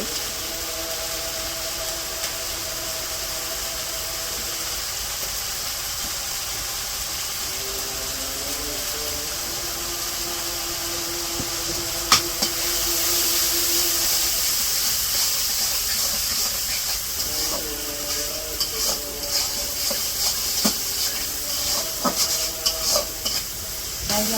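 Masala of ginger-garlic paste, turmeric and chili powder fries in a pan for a puti fish curry, a continuous close sizzle and hiss with stirring scrapes throughout, without speech.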